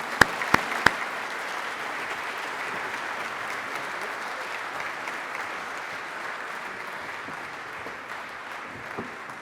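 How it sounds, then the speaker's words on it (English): A press conference audience applauds, a dense, even wash of many hands clapping throughout, with a few sharp close claps at the start. "I guess a round of applause"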